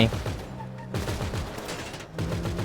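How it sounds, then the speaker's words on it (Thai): Gunfire from a car during a zombie mod of GTA V rattles in dense, continuous bursts close up, with engine rumble underneath and a voice speaking at points. "ระหว่างนี้ก็ขับรถยิงไปนะครับ"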